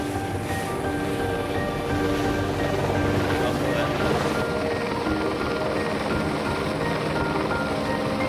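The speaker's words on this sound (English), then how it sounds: "The chopper's round trip to reload takes just a few minutes" A helicopter flies over water during construction work in New Zealand, a steady loud rotor drone and engine whine that fills the clip without pause, with wind rushing across the microphone.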